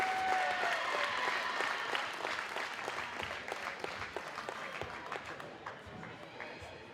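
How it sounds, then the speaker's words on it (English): An audience at a college basketball game gives a sustained round of applause for a player, loud at first and then thinning to scattered claps. "A round of applause for Jalen Rutherford."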